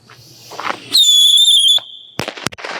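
A backyard consumer firework launches with a sharp pop and a loud, high whistling shriek lasting about a second, followed by crackling bursts and pops, heard close in an outdoor parking lot.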